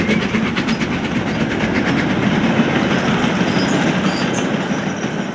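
A long freight train hauled by the former Western Region Britannia class steam locomotive 70029 Shooting Star rolls past with steady clickety-clack of wagon wheels, a loud continuous rumble and occasional metallic squeals.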